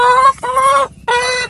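A turkey hen sitting on eggs gives two close, loud clucking calls with a short gap between them.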